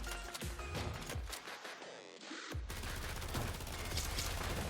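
Shotgun blasts in the video game Overdrive Escape, several heavy booming shots in quick succession with a brief gap near the middle, loud and close.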